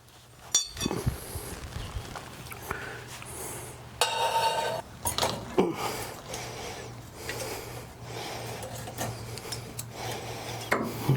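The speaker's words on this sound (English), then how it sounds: "Now we need to see if we can get the back gasket in." Metal parts and an exhaust gasket being worked into place on a Sonex aircraft exhaust, heard as a string of close, scattered scrapes, clicks and rubbing bursts over a faint steady hum, with no talk.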